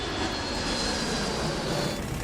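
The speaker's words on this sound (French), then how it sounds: "tout le monde a mis la main sur les manettes de gaz pour pousser l'avion à la puissance maximale" Airliner engines of an American International Airways flight throttled up to maximum power give a continuous, loud, dense roar that holds steady throughout with no talk.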